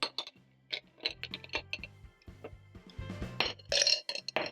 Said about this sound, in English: I'm going to scoop out my ice cubes, which are melting.